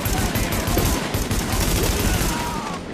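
Rapid automatic gunfire from The Division, a dense, continuous burst of shots filling the entire stretch, loud and close.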